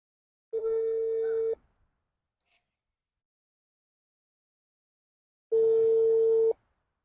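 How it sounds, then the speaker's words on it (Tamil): A telephone ringback tone sounds while a call is placed: two steady, even one-second tones about four seconds apart, separated by silence. "ரிங் போகுது."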